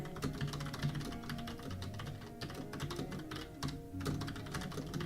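Fast, steady typing on a computer keyboard, with dense clicking keystrokes close by and a few brief pauses, quiet and without talking.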